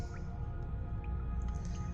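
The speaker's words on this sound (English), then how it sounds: "You can hear the water dripping in the background" Water drips in a gloomy cave in Zork Nemesis, a few sparse faint plinks over a low rumbling ambient drone.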